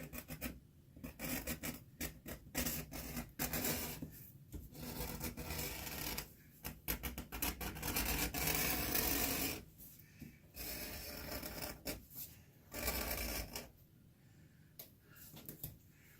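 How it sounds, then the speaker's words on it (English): An edge beveler shaves along a leather edge in long rasping strokes, a close, scratchy cut broken by short pauses between passes, heard alone without speech. "we'll just come through and we'll just bevel this edge"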